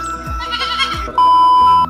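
Goats bleating close by in a village, with several loud, wavering calls in quick succession, one drawn out and steady toward the end.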